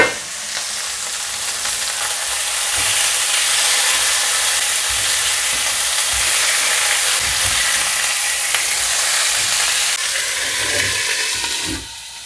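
Fish frying in a worn, half-broken Teflon pan gives a steady, close sizzle and hiss that swells and then fades, with a few faint clinks near the end.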